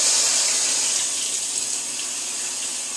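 Water pouring steadily into a washing machine as it fills for a heavy wash, a constant hissing rush close by with no voices.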